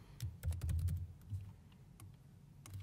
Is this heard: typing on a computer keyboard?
yes